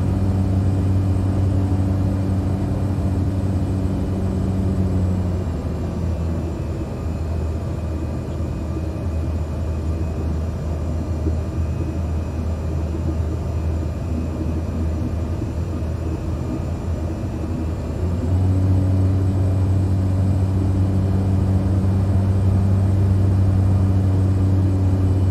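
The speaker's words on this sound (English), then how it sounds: "this is a turboprop, which means the jet engine is actually running the prop" Turboprop airplane engine during landing in Microsoft Flight Simulator 2020, a loud steady droning hum with low rumble that eases briefly in the middle and then swells back up, continuous and without voices.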